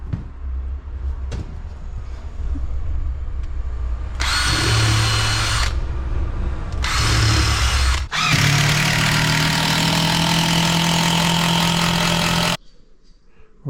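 Power drill countersinking screws into a melamine cupboard, a loud close whine in short bursts followed by one long sustained run, with high-pitched grinding as the bit cuts and a quiet pause at the end.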